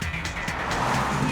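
A car skids with screeching tires in a loud, continuous burst of road and engine noise, the sliding scrape building steadily and closely throughout.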